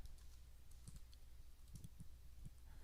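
Typing on a computer keyboard: a few quick, faint, irregular key clicks in small clusters against a quiet room.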